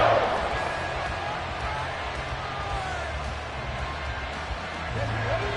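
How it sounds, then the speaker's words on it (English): Stadium crowd noise in the Madden 24 football video game, a dense steady roar filling the background at constant loudness throughout. "This crowd turning up the decibel level."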